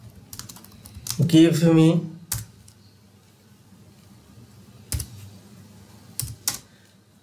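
Typing on a computer keyboard, with a burst of quick key clicks at the start and a few isolated taps later. A voice speaks briefly over the first keystrokes.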